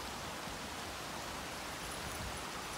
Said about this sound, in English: that thundering noise that you can hear